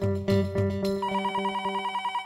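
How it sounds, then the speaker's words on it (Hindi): An indoor telephone rings with a bright electronic trill, a few louder bursts at first and then a fast, steady repeating ring pattern, close and clear, with no speech over it. "फोन आया।"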